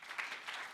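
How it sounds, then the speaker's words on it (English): Brief applause for a university vice-chancellor, dean and head of school at an alumni event, a soft, steady patter of many hands, faint and somewhat distant, lasting under a second. "a round of applause for our VC"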